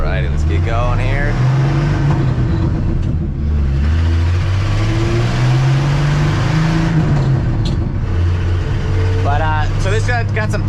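A 1967 Ford F250 pickup pulls away on the road, its engine a steady loud low drone that rises and falls in pitch as it gets going, with no break for the whole stretch.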